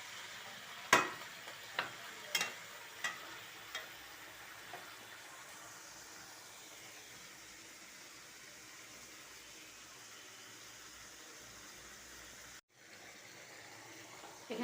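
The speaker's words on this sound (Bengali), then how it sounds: "সব দিয়ে বসাই দিলাম, এখন এটা আমি কষায় নেব।" Vegetables and spices sautéing in a pan for a Bengali dish, with a few sharp stirring clatters early on followed by a steady, faint sizzle that runs on alone.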